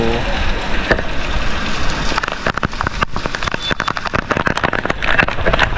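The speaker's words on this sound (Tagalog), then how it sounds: "grabe lakas ng ulan, no?" Heavy typhoon rain in Bicol pours steadily and loudly onto surfaces, with dense crackling drops and sharper splatter throughout and no voices.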